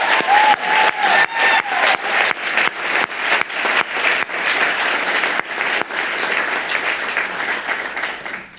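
An audience at a lecture on liberal arts and public policy claps loudly and steadily for several seconds, the applause thinning slightly toward the end.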